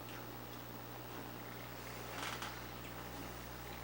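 A cat purrs steadily and close up, a low continuous rumble that runs throughout with a brief rustle near the end, and no voices.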